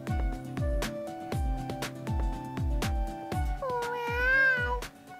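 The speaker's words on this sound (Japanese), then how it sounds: "猫だ。" A cartoonish cat in a dating-sim video game lets out one drawn-out, wavering meow near the end, over looping game music with a steady, thumping beat.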